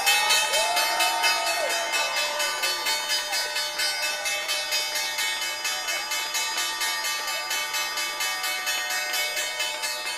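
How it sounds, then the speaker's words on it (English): The NYSE closing bell rings in a long, continuous run of rapid, evenly spaced clangs, loud and steady at the exchange, with faint crowd noise and no talk. "Time now for the closing bell."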